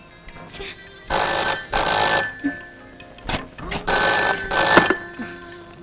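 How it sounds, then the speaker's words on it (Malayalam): A telephone rings in a Malayalam feature film in two long bursts with short gaps, loud and close, with brief room noises in between. "ഫോൺ എടുക്ക്."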